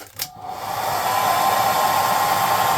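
An airbrush sprays thinned model paint for miniatures, a steady, close hiss of air that rises within the first second and then holds evenly.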